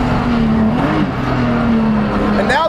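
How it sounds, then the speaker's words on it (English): A BMW Spec E46 330ci race car lapping a track, its engine droning steadily at high revs from the cabin, pitch sagging slightly and then climbing again with a quick shift at the end. "What a great little race car this is."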